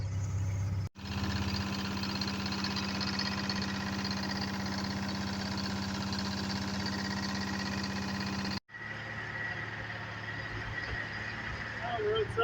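A 1970s Wabco 555 road grader's engine running after a cold start, a steady mid-pitched diesel drone with a strong hum that cuts out briefly twice before resuming at a similar level.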